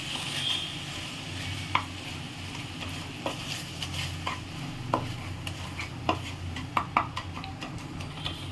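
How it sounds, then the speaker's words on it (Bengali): A spoon stirs caramel with a splash of milk in a pan on a switched-off stove, giving soft continuous scraping with scattered light clinks against the metal, fairly quiet and with no voices. "এটাকে এরপর আমি গ্যাসটা অফ করে দেবো, আর অল্প দুধ দিয়ে এটাকে মিক্স করে নেবো"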